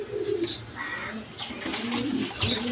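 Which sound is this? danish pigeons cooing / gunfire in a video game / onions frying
danish pigeons cooing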